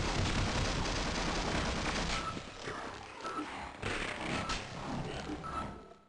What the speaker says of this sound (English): Lots of more loud gunfire.